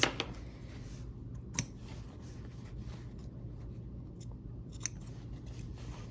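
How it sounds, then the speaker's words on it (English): Scissors snipping the corners of quilt fabric, two or three sharp, close cuts spaced a few seconds apart over a quiet room. "now we'll clip our corners"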